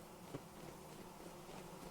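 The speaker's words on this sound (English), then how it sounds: "Oh, and I harvested bees too." Harvested bees in the video game Vintage Story give a faint, steady buzzing drone that continues throughout at low volume, alone without talk.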